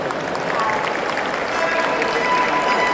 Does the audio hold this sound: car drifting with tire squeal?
no